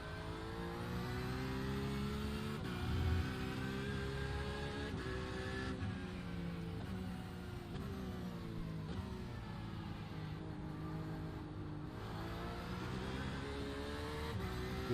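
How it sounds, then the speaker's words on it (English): An LMP prototype race car in iRacing leaves the pits, its engine droning steadily with rising and falling revs over a continuous mid-pitched hum, moderately loud throughout. "LMP coming out of pits."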